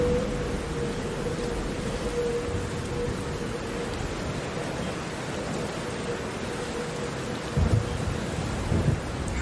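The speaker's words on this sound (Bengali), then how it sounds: "ওরা বেশ কিছুক্ষণ অপেক্ষা করার পর ঝড় আর বৃষ্টির তাণ্ডব একটু কমল" Steady heavy rain during a thunderstorm, a dense wash of downpour with low rumbling thunder throughout and a couple of louder thumps near the end, no voices.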